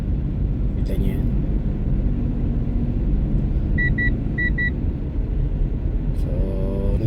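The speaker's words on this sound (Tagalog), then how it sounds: "alarm yung aking car dahil po may na-detect na ice kalye. May na-detect po yan, kaya tumunog." A car's ice-warning alarm sounds on a wet road in freezing weather, giving two quick pairs of mid-pitched beeps over steady engine and road rumble inside the cabin.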